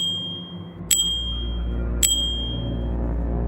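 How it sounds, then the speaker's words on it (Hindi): An ice cream vendor's handbell rings twice, bright and clear, about a second apart over a low steady drone, as a sound effect for a deserted village lane at night. "गांव की सुनसान गलियों में एक आइसक्रीम वाले की घंटी गूंजती"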